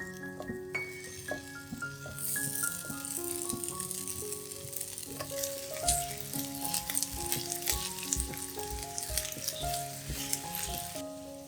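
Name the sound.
ginger stir-frying in warm sesame oil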